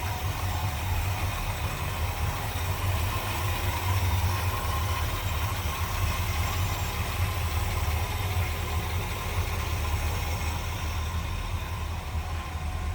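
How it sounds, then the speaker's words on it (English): A 1953 Studebaker 2R6 pickup engine with a 4-barrel carburetor idles smoothly and steadily, a low even rumble with a faint mechanical ticking, nearby and unchanging throughout. "Smooth running engine."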